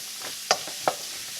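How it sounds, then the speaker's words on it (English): Turkey noodle soup ingredients sizzle in a pot while being stirred, a steady soft frying hiss punctuated by two clear scrapes or clinks of the spoon against the pot. "Stir it up, get it all nice and coated on up in that."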